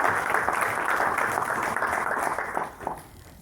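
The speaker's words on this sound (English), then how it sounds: "So please big a round of applause for all of you who have attended design thinking." Attendees of a design thinking session clap together in a steady, fairly loud round of applause lasting about three seconds, then it thins and fades out.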